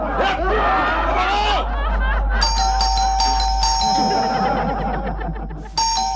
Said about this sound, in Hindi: कब से डोरबेल बज रही है, दरवाजा क्यों नहीं खोलता?